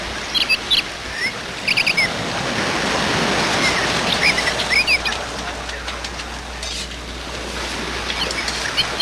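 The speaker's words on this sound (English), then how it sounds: "Bird's there." Small birds chirp and tweet in repeated bright bursts over a steady rushing water-like background, moderately close, with no talking.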